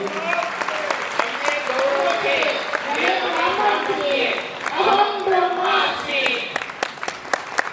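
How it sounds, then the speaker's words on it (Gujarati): Applause at a Gujarati spiritual gathering, a dense, sustained wash of many hands clapping with voices calling out over it throughout. "વધાવીએ જોરદાર તાળીઓથી વધાવીએ"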